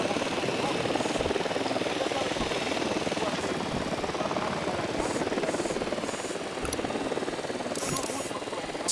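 A video game drone lifts off beside a sniper in a military shooter, giving a steady, loud, rotor-like whir that holds evenly throughout with no gaps.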